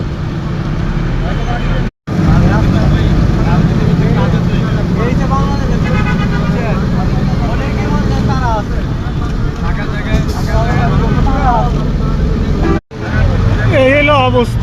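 Dense traffic noise on a jammed main road, a steady loud rumble of idling and creeping vehicles, with voices talking over it throughout and brief breaks in the sound.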